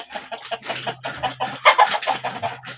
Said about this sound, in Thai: ตัวเมืองมีเลี้ยงไก่พ่อพันไก่ชนด้วยนะครับ เนี่ย ไก่ชนไก่บ้าน